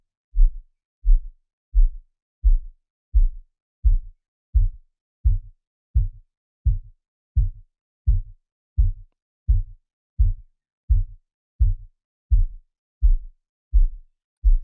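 Deep sub-bass pulses from the Waves Submarine plugin set fully wet thump in a steady, even rhythm, about one per second, very low and rounded with nothing else playing.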